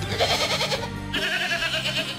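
A goat bleats in an EA video game trailer, a few loud, quavering cries heard up close with dense background sound and no talk.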